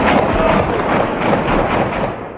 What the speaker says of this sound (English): But the heavy gunfire showed that the rebels were still fighting back.